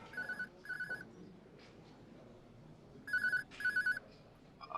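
A mobile phone's electronic ringtone sounds in two short bursts, goes quiet for a moment, then rings twice more, louder and nearer.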